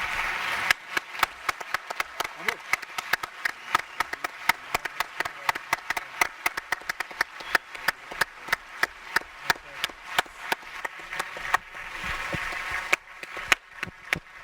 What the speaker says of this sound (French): j'aimerais qu'on puisse applaudir vraiment tous nos intervenants